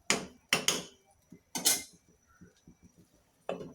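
A lid set onto a pan of cooking katla fish gives a few sharp metallic clanks close by, followed by softer, scattered knocks and rattles.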